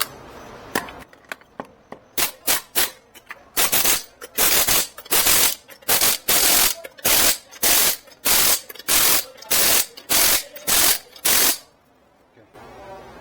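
Lug nuts going back onto a Subaru Forester wheel, tightened in quick rapid bursts of ratcheting clatter from an impact-style tool, about a dozen loud spaced runs close up, then a quiet pause.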